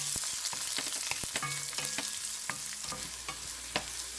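Fennel, onion, dried red chillies and curry leaves sauté in hot oil with mustard seeds, a close steady sizzle marked by frequent crisp pops and crackles, with a few clinks of a spoon and no voices.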